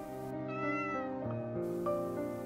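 A cat meows as a sound effect in a read-aloud of a children's picture book, one drawn-out, wavering meow heard clearly and alone against a soft musical background.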